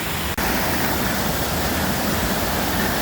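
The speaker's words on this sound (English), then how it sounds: "Nice waterfall." Dunn's Falls in Maine pours with a dense, unbroken roar of rushing water, loud and close, broken only by one brief dropout near the start.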